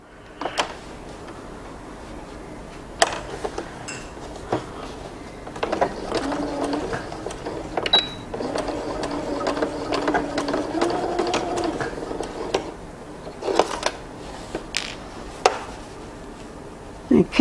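Domestic sewing machine stitching a 1 cm side seam on drawstring pants, running in a few short bursts and then a longer steady hum with mechanical clicks between them, fairly close.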